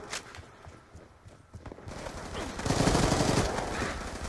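Gunfire in the video game Black Ops 2, a dense fusillade of rapid shots that starts sparse and builds into sustained loud automatic fire in the second half, with game ambience underneath.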